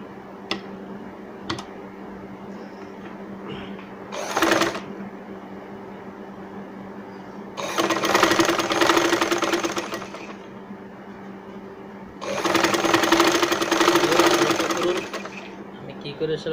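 A sewing machine stitches cloth for a kisti prayer cap: a quick short run, then two long, loud, steady whirring stretches of several seconds each, with quiet gaps and a few clicks between. A person speaks near the machine in the gaps.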